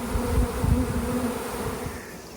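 Honey bees swarm around a hive in an apiary during a strong honey flow, making a dense, steady drone that stays close and continuous throughout and fades slightly toward the end, with no talking.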